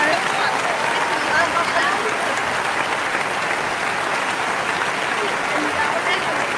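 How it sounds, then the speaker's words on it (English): A large audience at an awards ceremony for outstanding educators claps steadily and densely, a continuous wash of applause at full volume throughout. "So a big round of applause."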